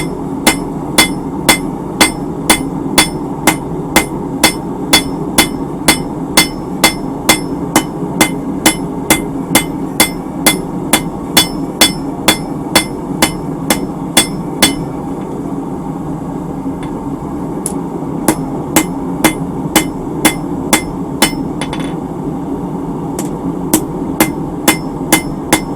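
Steady, sharp hammer blows ring out at an even rhythm on hot steel as a horseshoe end is upset and flattened on the anvil. The strikes come close and loud, roughly one per second, with short pauses.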